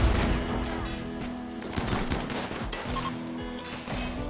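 Turrets fire in the RimWorld video game as a rapid, continuous crackle of game gunfire, dense and sustained over a low background hum throughout.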